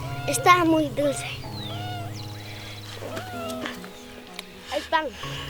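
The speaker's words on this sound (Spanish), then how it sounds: "El gato también quiere comer." A cat meows repeatedly, several rising, plaintive calls that carry over steady background hum while a person talks nearby during home bread baking.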